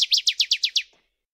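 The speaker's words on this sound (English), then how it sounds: "That's enough water thrush." A rapid series of seven bright, loud northern waterthrush song notes, each sweeping downward, ending abruptly with a faint trailing note.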